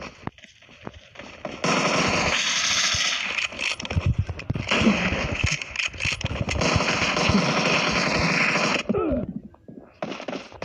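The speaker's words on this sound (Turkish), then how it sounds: "Ya adam tabancayla vuruyor." Rapid bursts of video game gunfire, pistol shots cracking in quick succession over about seven seconds, loud and dense with brief gaps, before fading near the end.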